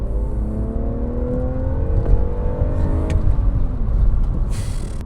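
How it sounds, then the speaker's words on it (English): BMW 325ti compact with a five-speed manual, downshifted at about 28 mph and revved near 3,000 rpm, its engine note rising and falling steadily from inside the car, loud and continuous with no talk. "one thing that is really apparent with this engine when you start to use it is the engine note"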